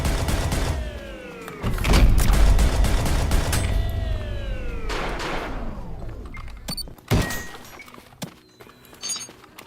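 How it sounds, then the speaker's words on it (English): Heavy repeated impacts and a metallic ring from the saw blade launcher in ULTRAKILL, loud and dense at first, then tapering into scattered thuds and clanks with no voices. "I already have the saw blade launcher."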